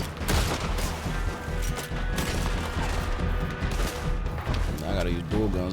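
Rapid dual-pistol gunfire in Red Dead Redemption 2, a dense barrage of sharp shots and crashes layered over music and game sounds, loud and continuous throughout.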